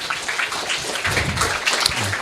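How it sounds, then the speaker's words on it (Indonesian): A gathered audience applauds a school head at a community forum in Banyuwangi, with thick, even clapping throughout and a brief murmur of voices underneath. "Tepuk tangan untuk Pak Kamat ya"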